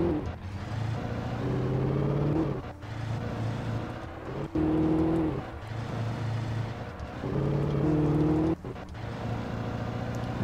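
Engine of the Bright Falls truck driving on narrow roads in the video game Alan Wake, a steady motor drone that rises and falls with gear changes, with brief dropouts between stretches.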